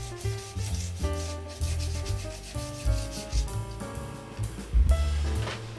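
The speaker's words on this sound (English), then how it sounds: "then it's time to creep up on the scorch lines with the sander, leaving a nice and square edge" A power sander grinds along a wooden edge close by, with a buzzing motor tone that rises and falls in uneven passes throughout.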